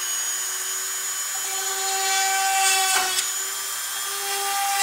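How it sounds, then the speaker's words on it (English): A high, steady whine of a small rotary tool drilling holes in a miniature model part, close and loud, with a brief dip and catch near the middle as it bites in. "I'm gonna drill out these holes"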